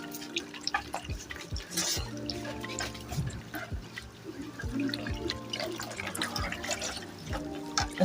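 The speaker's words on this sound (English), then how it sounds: "when you add the cold water, it will start thickening." Cold water being added to a hot homemade hair conditioner mixture, heard as continuous splashing and trickling with scattered drips and clinks, moderately close and with no talk.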